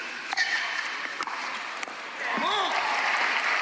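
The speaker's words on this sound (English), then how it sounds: "Really like the way the crowd reacts to the points here in Atlanta." A crowd at a pickleball match in Atlanta applauds in a sustained wash of clapping that swells in the second half, with a commentator talking over it.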